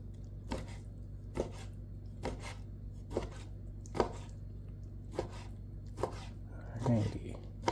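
Knife chopping chicken on a cutting board while making cheesy enchiladas, about nine evenly spaced sharp thuds roughly a second apart, close and clear over a low kitchen hum.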